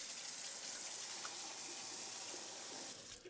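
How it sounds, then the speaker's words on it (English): Tap water runs steadily into a sink while groceries are rinsed of soap, a continuous close gushing splash that fades slightly at the end. "What I'm going to do is just rinse it off"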